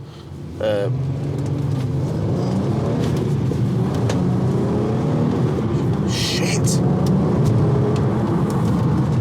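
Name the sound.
Volkswagen Golf R32 car engine while driving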